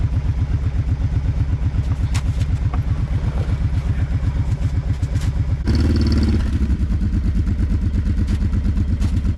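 A four-wheeler ATV idles and pulls hard while hauling a big log on a short strap across a frozen lake, its steady pulsing engine close and loud throughout, with a brief surge of revving and clatter midway.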